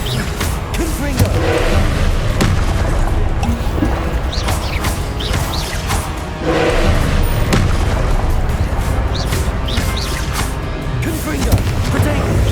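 Repeated Confringo fire spell explosions in Hogwarts Legacy battle, loud booms and crashing impacts recurring every second or two over continuous rumbling combat noise.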